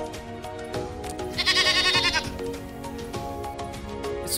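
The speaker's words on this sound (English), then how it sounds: "Goat." A goat bleats once in a wavering, bright cry lasting under a second, set over a steady musical backdrop with soft thumps throughout.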